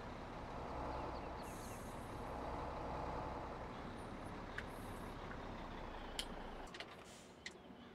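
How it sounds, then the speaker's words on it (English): A truck in Farming Simulator 17 rumbles steadily at low speed while being parked, with a constant engine drone, short hissing bursts and a few sharp clicks toward the end. "I'm just going to park this truck out of the way."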